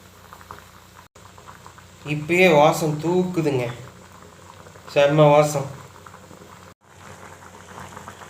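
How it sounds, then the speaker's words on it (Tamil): Sweet corn boiling in a pot of water gives a steady low bubbling and simmer throughout, with a person talking nearby over it in two bursts. "செம்மையாக கொதிச்சிட்ருக்குது"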